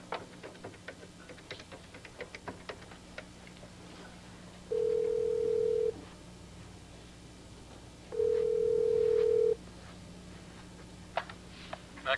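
A telephone in a soap-opera scene gives two long steady tones, each about a second, separated by a pause, over a low room hum and scattered small handling clicks with no speech.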